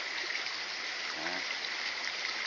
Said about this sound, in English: You hear the babbling brook as you pass some places